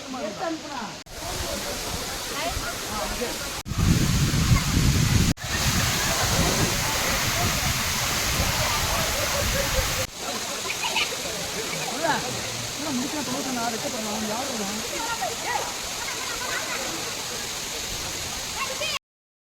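Waterfall at Kolli Hills gives a steady broadband rush of falling water, moderately loud, with people talking over it for much of the time.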